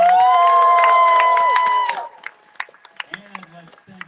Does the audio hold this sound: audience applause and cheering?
yes